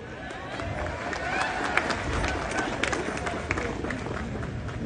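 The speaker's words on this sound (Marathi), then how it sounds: "बरं झालं दोन्हीकडून सेम टाळ्या वाजल्या ना, तर मला वाटलं इकडूनच वाजतंय की नाही" Applause from an audience on both sides of a hall during a Marathi speech, a dense, sustained crackle of many hands clapping at steady loudness for several seconds with crowd noise mixed in.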